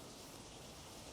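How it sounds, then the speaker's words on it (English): Steady rain falls outside a quilt-walled blanket fort at night, a soft, even hiss of drops with no breaks, distant and low in level. "The sound of the rain"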